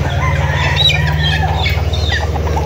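Chickens on a large poultry farm cluck, squawk and crow in overlapping calls over a steady low hum, with birds close by and more behind them.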